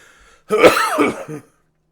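A single harsh cough or throat-clearing fit, close and loud, lasting about a second in otherwise quiet surroundings.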